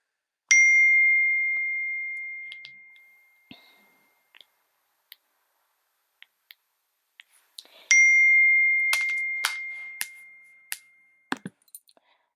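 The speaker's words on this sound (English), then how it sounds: "Sorry for all the chimes." Chimes ringing indoors: two clear, bright metallic dings about seven seconds apart, each fading slowly, with scattered faint clicks and small clinks between and after them.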